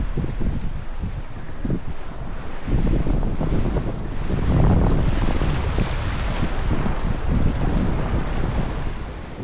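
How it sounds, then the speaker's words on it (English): Heavy wind buffets the microphone while waves surge and splash against a boat at sea off Norway, a continuous loud roar with rising gusts. "The waves are building up pretty fast already, and also the winds are gonna pick up pretty soon."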